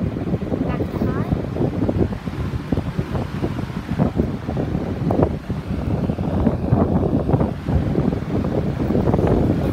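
An electric box fan running on high speed gives a loud, steady whooshing rush of air close to the microphone, with people talking over it.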